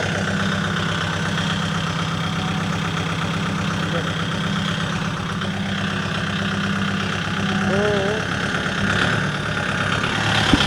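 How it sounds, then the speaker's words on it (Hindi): A tractor engine idles steadily at an agricultural fair in Pantnagar, giving a smooth, continuous mid-low rumble that holds for the full length, with talk mixed in. "इतनी स्मूथ आवाज़ है कि मतलब किसान को पता भी नहीं लगता कि वो ट्रैक्टर ऑपरेट कर रहा है"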